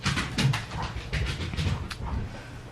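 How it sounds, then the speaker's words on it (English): A dog pants close by in quick, breathy bursts, with a faint whimper now and then, in a quiet room with no one speaking. "Sorry, that's my dog."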